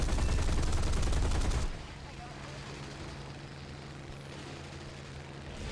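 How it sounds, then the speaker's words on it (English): Aircraft guns fire in War Thunder as a dense, loud, continuous burst lasting under two seconds, then cut off into a steady engine drone. "I should be able to get my shots off before I get fired upon"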